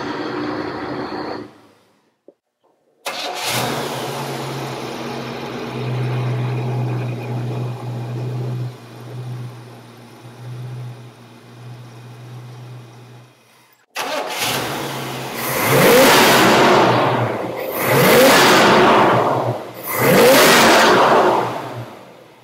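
A 1937 Ford custom street rod cranks briefly and catches, settles into a steady, loud idle for about ten seconds, then is revved hard three times in rising, rumbling surges, close and without talk.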